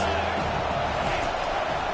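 Stadium crowd at a college football game, a steady broad roar of cheering that holds at even strength throughout, with no clear talk over it.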